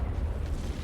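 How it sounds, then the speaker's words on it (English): Explosions in the video game Helldivers 2, a steady low rumbling roar with no sharp single blast, holding at a constant level throughout. "Too many explosions."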